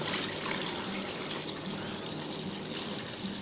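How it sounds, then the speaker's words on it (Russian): Water pours into a pan of lightly browned chicken pieces, a soft continuous trickle and splash that stays steady and fairly quiet, heard alone without talking. "Добавляем воду."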